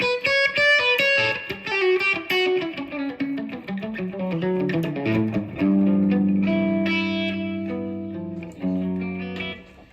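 Loud distorted electric guitar plays a fast run of notes, then settles into sustained, ringing chords with heavy effects, no talking.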